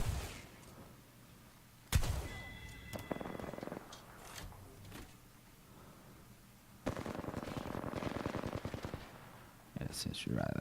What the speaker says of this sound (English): He's gone for a shotgun kill.